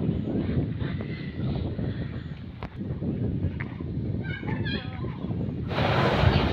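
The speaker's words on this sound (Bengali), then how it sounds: "এত পরিমাণ হাঁস আমি দেখিনি। তাও আবার রাজহাঁস, সব রাজহাঁস।" Flock of geese in a Bangladeshi village, a few honks and gabbling calls over steady wind and ambient noise, moderately distant, with a louder burst of wind noise at the end.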